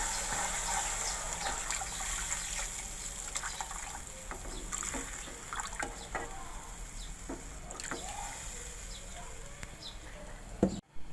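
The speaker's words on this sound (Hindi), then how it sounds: "अब मैं इसमें डाल दूँगी पानी" Water is poured into frying masala for a pakora curry, a steady splashing, gushing stream over a sizzling hiss, with scattered clinks and a sharp knock near the end, no speech.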